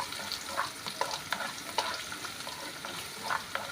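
Chopped garlic and ginger fry in a pan for tomato chutney, a soft continuous sizzle broken by repeated scraping and stirring clicks of a utensil, fairly quiet and close with no talking.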